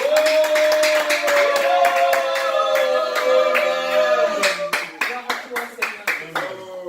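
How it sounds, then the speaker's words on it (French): A church congregation claps to welcome a preacher at a Sunday service, sharp rhythmic hand claps over singing voices and sustained musical tones, the clapping growing more spaced and distinct toward the end. "Nous allons donc, sous nos acclamations, accueillir ici l'homme de Dieu, le révérend Calvin, sous vos acclamations."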